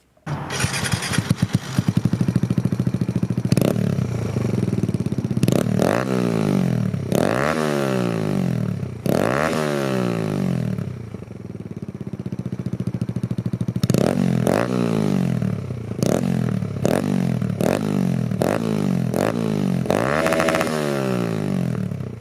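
A Kawasaki Z125 motorcycle fitted with an Empire Industries exhaust and silencer starts up, then idles loudly with a string of sharp throttle revs rising and falling, close to the microphone and alone without talk.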